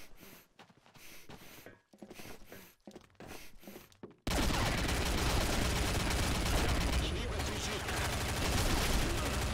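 Rapid bursts of gunfire from the game Combat Arms in Arms Race mode, first choppy and spaced, then a dense continuous roar of shooting and noise for the rest of the clip.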